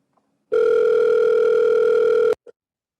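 A single steady telephone ringing tone on a call-in line sounds loud and close for about two seconds, then cuts off abruptly, followed by a faint click.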